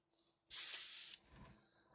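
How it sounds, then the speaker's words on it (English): A single sustained hiss of aerosol spray paint on hardened leather lasting just over half a second, loud and close, followed by faint handling noises. "give it a quick little spray from the bottom"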